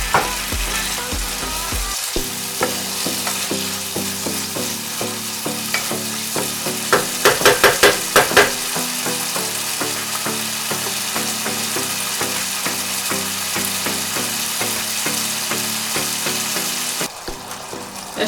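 Meat fries in a pan while shiro is being prepared, a loud, close, continuous sizzle with a burst of sharper crackling partway through and occasional stirring.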